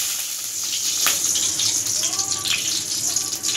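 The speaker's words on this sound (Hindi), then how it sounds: "सबसे पहले हम एक कढ़ाई में वनस्पति घी डाल देंगे" Vanaspati ghee poured into a kadhai gives a steady liquid pouring and splashing sound, close and continuous for a few seconds.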